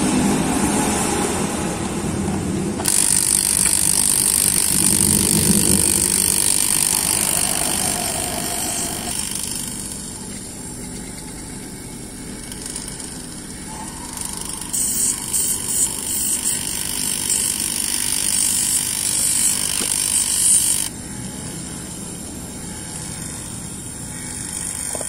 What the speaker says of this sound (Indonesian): Kita hisap dengan alat vakum ya.